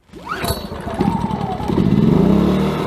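A small petrol generator engine is pull-started into life, sputtering up and then settling into a steady, loud running drone.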